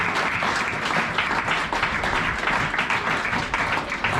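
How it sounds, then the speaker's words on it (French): A congregation at a church service applauds continuously, dense steady clapping that fills the whole stretch with slight swells, close and loud, with no distinct voices. "Acclame Jésus-Christ."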